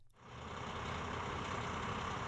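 An MX-13 truck diesel engine idles steadily after starting, a continuous low rumble with a dense mid-range drone that stays even and close for the whole stretch, with no talk.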